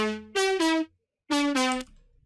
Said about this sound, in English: Then I added this distortion plugin called Arpeggiator from SoundToys.